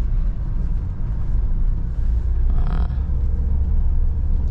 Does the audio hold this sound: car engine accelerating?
yes